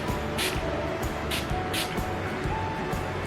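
Water is sprayed onto a waterproof face mask in repeated short hissing bursts over a steady loud background rumble, close to the listener.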